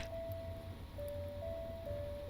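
A synthesized song plays from a CD player aboard a ship in the game Stormworks: Build & Rescue, with a thin, steady melody of sustained notes over a continuous rumble of waves.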